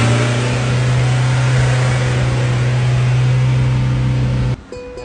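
A car engine idling steadily after a carbon cleaning treatment to burn off carbon, a loud, close, constant hum with a strong low drone that cuts off abruptly near the end.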